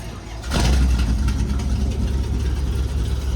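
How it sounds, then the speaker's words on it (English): A Plymouth Barracuda 'Cuda V8 catches and fires, then runs loud and close with a rough, lumpy idle. Brief talk sits under the engine noise. "let's see about getting this Cuda in running condition. Yeah, right. Go ahead, fire it up, Bryce."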